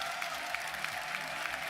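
A large arena crowd applauding at the Dota 2 ESL One Stockholm lower final, OG versus Tundra Esports: a steady, distant wash of clapping with a few slightly louder claps.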